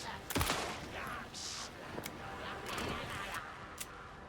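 Rapid gunfire in the survival horror game Alan Wake II, a burst of sharp shots near the start followed by scattered bangs over steady ambient noise, with speech mixed in.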